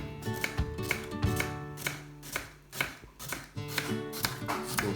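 A sharp knife chops an onion finely on a board, with rapid, close, evenly spaced strikes running throughout over a faint tonal background.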